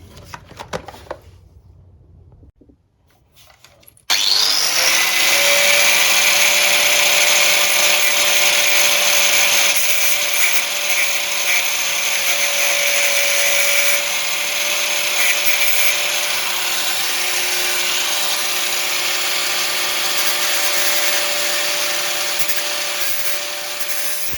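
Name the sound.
grinding off a motorbike chain on a ZX6R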